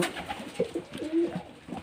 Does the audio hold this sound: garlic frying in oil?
no